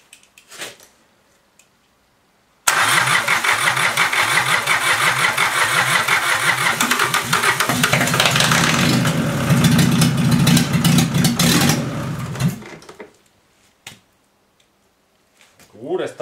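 A Mazda 323 1.7 diesel engine cold-starts after a brief crank, then settles into a loud, steady, clattering idle for about ten seconds before shutting off, with people talking around it.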